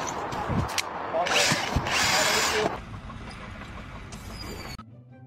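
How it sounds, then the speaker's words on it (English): A power drill with a large bit boring into material, whirring in bursts of strained grinding and ratcheting with brief pauses between, fairly close and moderately loud. "That's a serious drill bit for a serious job."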